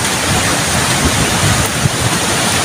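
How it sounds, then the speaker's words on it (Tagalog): A strong typhoon wind roars steadily with gusty buffeting, mixed with a dense wash of rain, loud and unbroken throughout. "Grabe yung hangin, oh."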